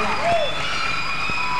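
Concert audience clapping to welcome the singer on stage, a short burst of applause with a sustained tone and faint background sound around it, fairly loud and close.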